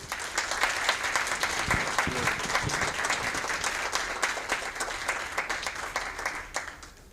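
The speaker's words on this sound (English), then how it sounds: "let's give them a big round of applause." Sustained applause from a lecture audience, a steady dense patter of many hands clapping at moderate distance, continuing evenly for several seconds before tapering off.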